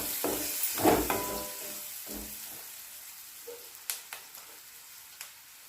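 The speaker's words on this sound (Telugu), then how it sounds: "ఉల్లిపాయలు వేసుకుందాం ఉల్లిపాయలు కూడా ఆయిల్లో వేగనివ్వాలి" Sliced onions drop into hot oil and sizzle, the loud initial crackle easing into a softer steady frying hiss, with a few sharp clinks of a utensil against the pan near the end.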